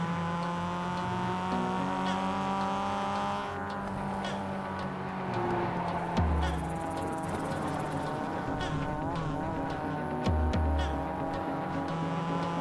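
A car engine in a racing video game drones steadily with a rising and falling pitch as it shifts gears, and a couple of deep low thumps break through partway.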